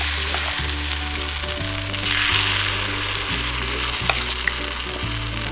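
Kanom krok batter sizzles and fries steadily in a round-welled pan, a loud continuous crackle with a low hum of the stove beneath, with no talking.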